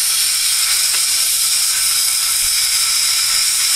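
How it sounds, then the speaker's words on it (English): Canned air sprays a steady, loud, continuous hiss onto the lens of a Nintendo GameCube to dry it, held close and running without a break. "spray it off right away with the canned air"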